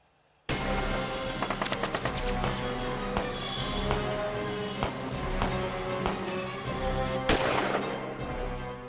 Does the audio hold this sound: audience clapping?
no